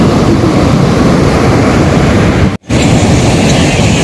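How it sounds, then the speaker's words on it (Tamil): Strong wind buffets the microphone at Varkala beach in Thiruvananthapuram, a loud, steady roar of gusts and surf with a momentary dropout partway through and no talking. "வெயிலும் அடிக்குது, அப்படியே காற்றும் பயங்கரமாக சிலு சிலுன்னு அடிக்குது"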